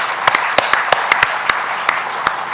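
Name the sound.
audience applause at book fair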